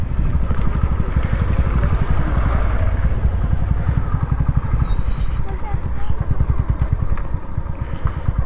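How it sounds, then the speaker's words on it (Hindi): A motorcycle engine runs close by in low gear with a rapid, steady pulsing thump as the bike is turned, loud and continuous for several seconds. "तो अभी आपको बाइक घुमा के दिखाता हूँ।"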